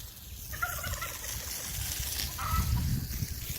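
Muscovy ducks in an outdoor pen over a netted low spot where they dig give a few moderately near fowl calls, with a soft outdoor rumble underneath.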